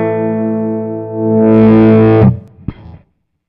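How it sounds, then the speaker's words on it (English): An electric guitar runs through a Kemper profiling amplifier with the gain turned down. A sustained chord rings, then a second chord swells in and cuts off, followed by a brief strum and silence. "So I'm going to turn the gain down a little bit so you have, just like you would on an amp, the gain comes down."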